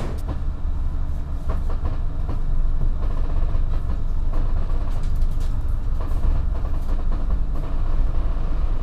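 Dharma Wangsa passenger train no. 132, an executive-class Jakarta–Surabaya service riding on K8 bogies, rumbles steadily along the rails, a loud, continuous rolling roar with faint clickety-clack heard from inside the carriage.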